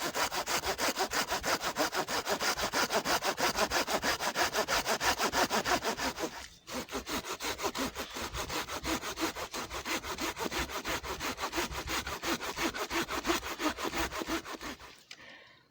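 A hand saw cuts through a thick wooden branch about three inches across, with fast rhythmic back-and-forth rasping strokes, close and steady, a brief pause midway, then more strokes until the cut ends.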